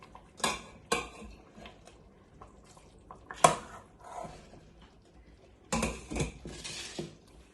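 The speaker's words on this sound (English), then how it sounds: "And give it a stir." Egusi soup with stock being stirred in a pot, sparse clinks and scrapes of a spoon against metal in separate bursts, close but quiet, with no one talking.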